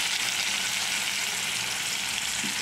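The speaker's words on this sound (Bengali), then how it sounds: "আলুটা অনেকটা ভাজা ভাজা হয়ে এসছে" Salted potato pieces frying in a pan, a continuous dense sizzle heard up close at an even level from start to finish, with no speech over it.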